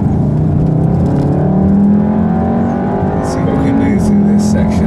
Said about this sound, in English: We're going to give it to our IndyCar champ Justin Wilson to take around the track.